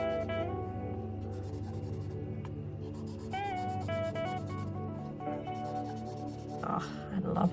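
A chameleon marker brush nib, a DIY brush nib, drawn across paper in steady soft strokes, close and continuous, with faint squeaky streaks and no talking.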